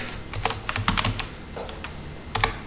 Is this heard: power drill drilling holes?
no